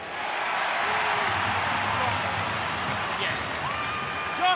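Stadium crowd at an NRL rugby league match between the Bulldogs and Raiders roaring and cheering in a broad, sustained wash of noise, with scattered applause and whistles and a commentator's voice briefly heard.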